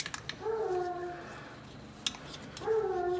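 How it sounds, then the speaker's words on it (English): A dog whines and howls in long drawn-out tones, two separate cries a short distance from the microphone, with faint clicks between them. "Sorry about the dog in the background."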